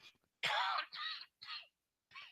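A man coughs and clears his throat in several rough, close bursts separated by short pauses.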